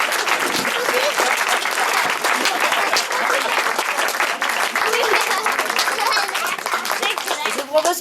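An improv show audience bursts into loud, sustained applause at the end of the performance, with dense clapping holding steady for about eight seconds and a few voices heard underneath.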